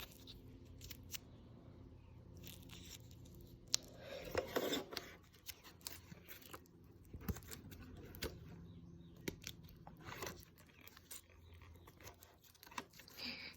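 Scissors snip and rustle through the packaging of a Uniden XCA4500, with quiet intermittent cuts, scrapes and crinkles close by, fairly faint overall.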